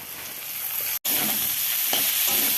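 Bitter saag greens fry in hot oil with chili, garlic, potato and turmeric, a loud constant close sizzle with the scrape of stirring and one brief gap.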